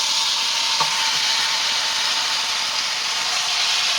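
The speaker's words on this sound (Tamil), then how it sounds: "நல்லா ஹை ஃப்ளேமில் வச்சுட்டு எண்ணெய் சூடானதும் மேரினேட் பண்ணியிருக்கிற இந்த மஷ்ரூம் எல்லாத்தையும் இதில் சேர்த்துக்கோங்க" Marinated mushrooms frying in hot oil and butter over a high flame, a steady, loud broadband sizzle with no pause or speech throughout.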